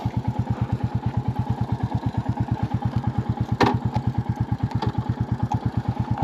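A Royal Enfield Bullet 350 motorcycle engine running close by, a steady low thump-thump idle with an even rhythm and a single metallic clack partway through.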